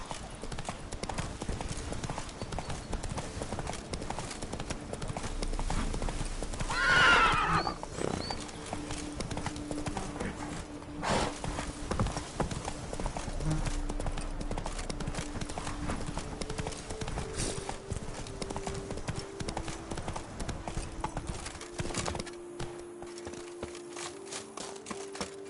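Hooves of the horse Roach clip-clopping at a steady gallop in The Witcher 3 game, a continuous rhythmic pounding under game music with a brief whinny and some distant voices.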